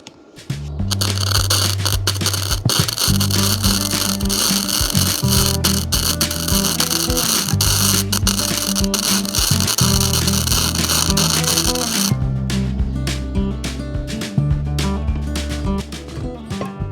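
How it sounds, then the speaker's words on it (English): Welding closes a gap on a heavy duty farm hitch, giving a loud, continuous crackling buzz with rhythmic pulsing bursts that runs for the whole stretch and eases slightly near the end. "now it's time to weld"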